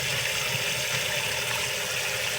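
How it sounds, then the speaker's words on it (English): Cool water runs steadily from a tap over a hair closure being rinsed, a loud, continuous close-up gush with no pauses. "I'm going to rinse it out with cool water this time."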